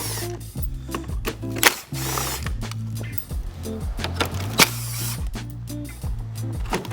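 A Torx 25 bit on a drill rattles and ratchets in short repeated bursts, removing bolts from an Audi A3 8Y grille, with loud clicks and brief pauses between runs.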